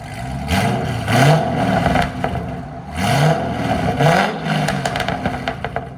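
Chevy C6 Corvette 6.2L V8 with stainless long-tube headers, mid-pipe and Borla ATAK exhaust, not yet tuned, revved repeatedly: loud, close blips that rise and fall in quick succession, with a crackle between pulls.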